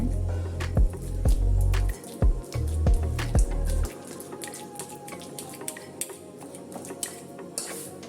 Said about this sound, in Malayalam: ഈ പഴം ഒന്ന് ഒരു ഫോർക്ക് വെച്ച് നന്നായിട്ട് ഇതുപോലെ ഉടച്ച് എടുക്കാം